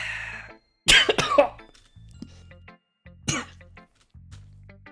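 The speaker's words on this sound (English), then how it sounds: "that was a perfectly timed cough that I did intentionally" Two deliberate coughs sound close and sharp, each a short harsh burst, set against a quiet low hum of background game music.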